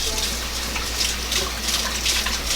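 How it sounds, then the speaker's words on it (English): Hands are rinsed under a running kitchen tap, a steady close hiss and splash of flowing water that holds evenly through the brief moment. "I'm rinse my hands off"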